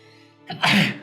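A single person sneezes once, close and sharp after a short intake of breath, in an otherwise quiet indoor room.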